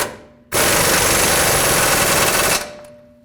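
An impact wrench tightens the mounting nut on the rear upper control arm bolt of a 2009-2010 Dodge Ram 1500, giving one loud, continuous, rattling burst of about two seconds at close range.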